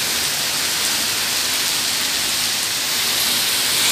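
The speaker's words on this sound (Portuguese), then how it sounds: "Tá chovendo pedra de gelo" Heavy rain mixed with hail pours down steadily in Maringá during a storm with strong wind, a dense, even hiss of close, loud drops and impacts that holds without pause for the whole stretch.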